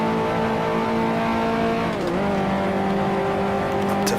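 A race car engine drones loud and steady at high revs, its pitch dipping briefly mid-clip as it downshifts into a corner, then holding again as the driver gets back on the gas.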